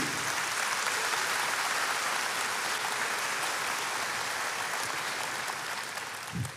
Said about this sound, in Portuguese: Aplauda, exalte.